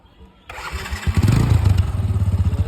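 A Bajaj Discover 150 motorcycle engine cranks and fires after a half-second of near silence, then settles into a loud, close, even thumping idle.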